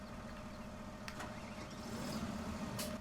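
A tractor engine in Farming Simulator 17 turns over and starts, a steady mechanical drone with a couple of brief clicks partway through and a slight rise in level toward the end, with no talking.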